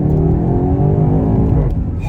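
A 2021 BMW X6M Competition accelerates with a loud, steady engine roar, its tone climbing smoothly through the revs from start to finish with no talk over it.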